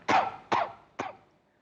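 Three short, dry coughs from a COVID-19 patient, evenly spaced and close, each a little weaker than the one before, in a quiet room.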